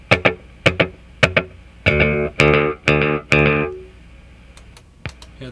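A Binson Echorec tape echo set to head 2 repeats short guitar notes with a slightly longer delay than slapback, distinct plucks followed by sustained, echoing chords, with no talking.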